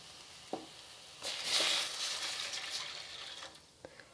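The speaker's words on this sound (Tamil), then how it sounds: "இப்போ 200 ml தண்ணி சேர்த்துட்றேன்." Water goes into sautéed vegetables in a pan for a homemade vegetable soup, making a loud sizzling hiss that swells and then slowly fades. Faint clinks and stirring sounds come before and after, with no talking.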